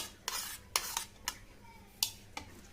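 Chopped tomato, green chilli and onion tipped from a container into a bowl, giving soft scraping sweeps and several light metallic clinks close by, with no voices.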